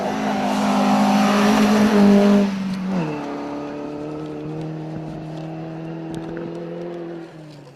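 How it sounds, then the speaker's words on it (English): A Sunbeam rally car charges along a rally stage, its loud engine note roaring close and then dropping pitch sharply as it passes, continuing to drone away into the distance. "With another car coming fairly quickly. Oh, it's a Sunbeam."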